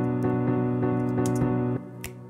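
Piano chord hits repeat three to a half bar in a rolling rhythm, sustained and steady over low tones, close and moderately loud, cutting off near the end.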